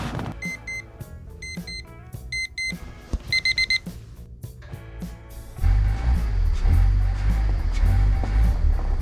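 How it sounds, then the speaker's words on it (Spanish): An alarm clock rings in the early morning before a night drive, with several clusters of bright, rapid beeping pulses that are close and loud, then giving way to a low rumbling background. "vamos a poner el despertador en la madrugada"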